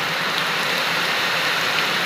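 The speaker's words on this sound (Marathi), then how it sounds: "तर हा पाऊस काय थांबा" Steady, dense rain hisses continuously, close and fairly loud, with no voices or other sounds.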